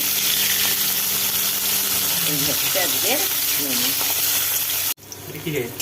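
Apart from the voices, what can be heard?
snake gourd frying in a pan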